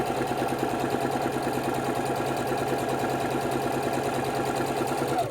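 A sewing machine stitches quilt fabric continuously with a rapid, even mechanical chatter, close and steady throughout.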